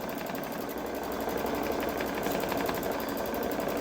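A Babylock Solaris 3 embroidery machine stitching out a design in the hoop, a steady rapid mechanical chatter of the needle running continuously and close, with no talking.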